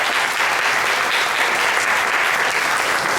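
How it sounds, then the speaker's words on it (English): Audience at a science awards programme gives a big round of applause, a dense, steady wash of clapping that holds evenly throughout with no talk over it. "a big round of applause"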